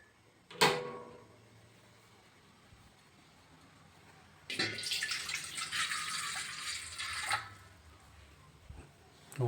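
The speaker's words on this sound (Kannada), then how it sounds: "ಫಸ್ಟು 1 ಕಪ್ಪು ನೀರು ಹಾಕೋಣ." A cup of water poured into a pan for cooking Yippee noodles, a short splashing pour of about three seconds after a sharp knock, in a quiet kitchen with faint background sounds.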